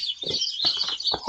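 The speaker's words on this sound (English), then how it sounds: "hopefully you guys can hear those birds because it's springtime officially now" Springtime birds outside a window chirp and call continuously, a bright steady twittering with a few louder, nearer calls and no voices.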